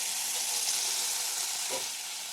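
Steady, bright sizzling of butter melting and frying with a little oil in a hot pan, continuous and close, with a faint clink partway through and no talking.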